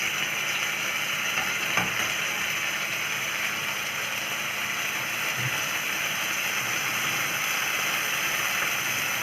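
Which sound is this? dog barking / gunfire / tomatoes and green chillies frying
tomatoes and green chillies frying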